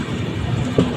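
A freight train running on the adjacent track beside a passenger train on the Kolkata to Digha route, heard as a brief, close, loud rumble of rolling wagons.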